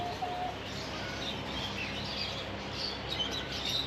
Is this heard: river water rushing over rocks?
no